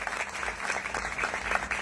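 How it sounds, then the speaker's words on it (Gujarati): Audience applause at a community gathering, a dense, steady patter of many hands clapping at moderate distance, continuing for about two seconds without a break. "આ ટીમને એકવાર જોરદાર તાળીઓથી વધાવી"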